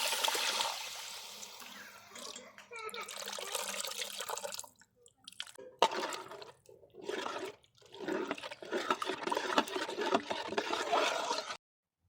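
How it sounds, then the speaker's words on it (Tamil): Tamarind water, dissolved with tomatoes, poured into a village-style dry fish curry simmering with ground masala in oil, giving a steady splashing, trickling pour that stops briefly midway and resumes before ending abruptly. "தக்காளிலாம் போட்டு கரைச்ச புளி தண்ணி சேர்த்துக்கலாம்"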